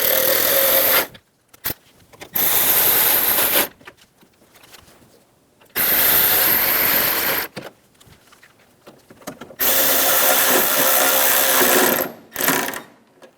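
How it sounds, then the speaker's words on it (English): A power driver runs screws into the grill of a 1988-1999 GMC K1500 pickup, with several loud sustained whirring bursts of a few seconds each, separated by brief quiet gaps and small clicks. "Install the screws for the grill."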